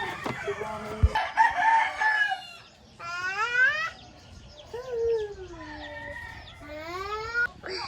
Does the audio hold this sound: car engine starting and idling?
no